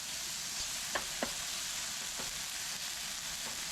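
Sliced peppers and green onion bottoms sizzle in a hot pan, a constant hiss with a few soft knocks and stirring scrapes layered on top, fairly quiet and steady.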